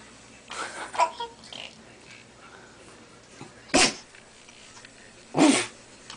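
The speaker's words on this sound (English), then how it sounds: "Bless you, Pup-Pup." Dog sneezing indoors near a crawling baby. Two short, sharp sneezes, close and fairly loud, come several seconds apart, with faint baby babble and soft household noise between them.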